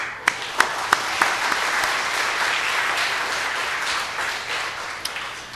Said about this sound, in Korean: 장로님을 향해서 박수.